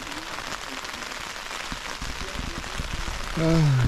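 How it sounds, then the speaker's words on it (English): Rain falls on a tent during a wild camp in the Cheviot hills, a steady patter of drops throughout that thickens slightly near the end. "rain."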